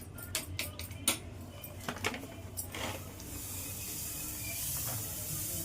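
Cashews and raisins roasting in a pan for payasam: a few sharp clicks and taps first, then a steady, close hiss of sizzling that grows slightly louder.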